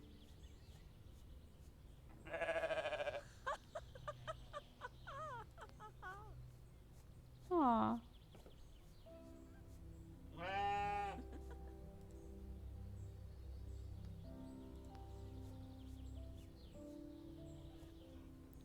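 Goats bleating in the farming game The Stillness of the Wind: three or four wavering calls spaced several seconds apart over quiet ambient background, one sharp and loud, with a brief soft murmur from a person.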